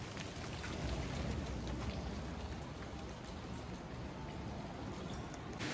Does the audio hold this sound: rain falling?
yes